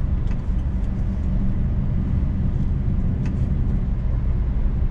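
KamAZ truck with half-flat tyres, heavily loaded, driving on an icy road in Kemerovo, a loud, continuous low engine and road rumble without pause.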